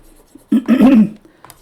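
A brief scrubbing rub of an eraser across a classroom board during a lecture, two short close swipes in quick succession followed by a faint tap.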